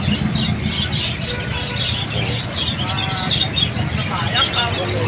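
Many birds chirping and cooing at the Malabon pet market in Hulong Duhat, a busy mix of tweets and pigeon coos over market bustle, traffic and people talking in the background.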